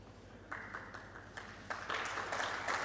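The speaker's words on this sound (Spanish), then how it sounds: "Más fuerte el aplauso, por favor." Applause greets a general manager of Giddings Fruit for China and Asia Pacific at a Chilean cherry export event, starting faint and swelling in steps into steady clapping from a sizeable crowd by the end.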